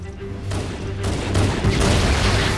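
A grenade explosion in Halo Anniversary, a loud burst with crackling gunfire around it, followed by a swelling, noisy rumble that stays strong to the end.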